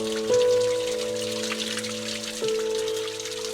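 Mountain spring water trickles and splashes steadily on a trail near Shergaon in the Sherdukpen area, with a steady tonal hum layered over the continuous watery wash.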